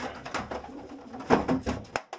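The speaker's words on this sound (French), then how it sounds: "Oh, vous avez un pigeon, c'est gentil." A pigeon held in the hand, a racing bird, gives a few soft, close, throaty coos in short, uneven bursts with no talk over them.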